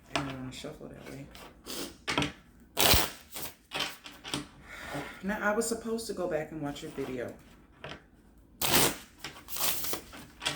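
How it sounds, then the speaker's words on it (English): Tarot cards riffle and shuffle repeatedly in bursts of crisp flapping, under a voice talking throughout. "I'm just shuffling, talking."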